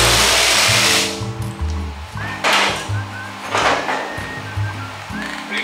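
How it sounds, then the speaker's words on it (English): Hutchins pneumatic air file with 36-grit paper grinding back and forth across a 1955 Buick Century front fender, a loud rough buzzing that surges and eases with each stroke, with brief hissing air bursts. "I take my air file with 36 grit, and what I'm gonna do is I'm gonna iron it out."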